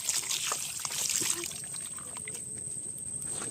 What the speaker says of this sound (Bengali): এবার মাংসটা ধুয়ে নেবো।